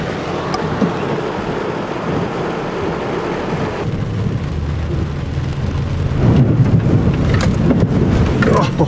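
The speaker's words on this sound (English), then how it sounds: "The wipers couldn't wipe the rain off fast enough." Torrential rain hammers a vehicle during record rainfall on a flooded desert road, a loud continuous roar of water drumming on the roof and windshield, swelling heavier near the end.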